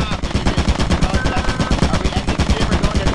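Rapid automatic gunfire in Lethal Company, a loud, close, continuous burst of evenly spaced shots lasting the whole moment.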